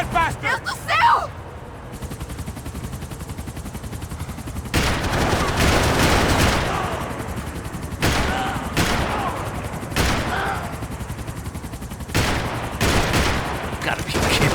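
Video game gunfire rattles in repeated bursts of loud shots and automatic fire, separated by short pauses, with excited voices talking over the action.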